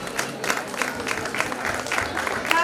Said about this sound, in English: This electrifying stage show definitely deserves your applause.